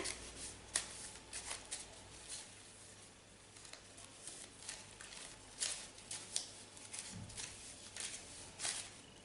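Playing cards are shuffled softly and repeatedly, a quiet riffling patter close by.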